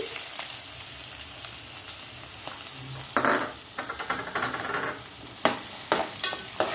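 Onions sizzling in hot oil with whole garam masala spices for a Guntur-style prawn curry, a loud continuous fry broken by bursts of stirring and clanks of a spoon against the pan, no talk.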